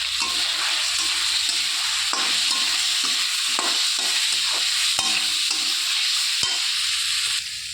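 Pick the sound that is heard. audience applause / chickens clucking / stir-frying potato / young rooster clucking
stir-frying potato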